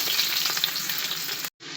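Onions fry in hot oil with cloves, pepper, cinnamon, star anise and garlic for masala rice, a loud, close, crackling sizzle that runs steadily and cuts out briefly near the end before resuming.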